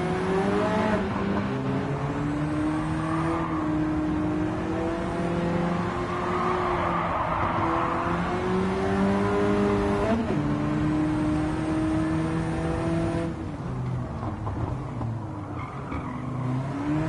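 Race car engines roar steadily in the driving game Gran Turismo 7, loud and continuous with shifting pitch and occasional tire squeal as cars battle closely on track.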